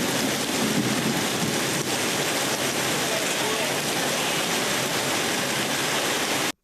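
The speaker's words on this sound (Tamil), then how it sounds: "இடி மின்னலுடன் பலத்த மழை பெய்தது" A heavy downpour during a storm in Erode, a dense, loud and unbroken roar of falling rain that holds steady throughout, with no clear thunder crack and no one speaking.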